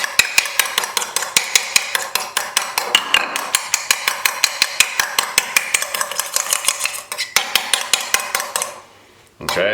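A fork beating a single egg white in a bowl: rapid, steady clinking strokes, loud and close, dozens of metallic taps in an even rhythm that slows and stops near the end.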